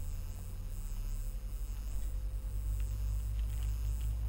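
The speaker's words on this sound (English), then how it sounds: "we can start engine number 2" An Airbus A330-900neo's number 2 engine starting up in Microsoft Flight Simulator, a low, steady rumble that swells slightly as it spools, fairly quiet and without talk.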